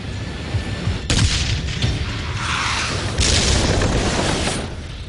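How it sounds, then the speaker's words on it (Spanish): A heavy boom hits suddenly as an anti-tank round strikes a T-54 tank turret, followed by rumbling and a second blast, loud and distant-sounding with a long, noisy tail. "El segundo disparo alcanza la torreta del tanque enemigo."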